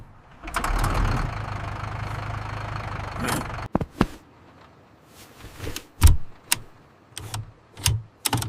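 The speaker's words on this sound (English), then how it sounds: "Let's start the engine." An animated corn harvester's engine cranks with a dense rumbling start, runs steadily for about three seconds, then cuts to a series of sharp mechanical clunks and bursts at close range, with no talking.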